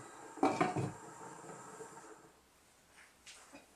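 Lid set onto a cooking pot of crab, misua noodles and patola soup, a short clattering metal clink up close, then quiet kitchen room tone with a faint later rattle.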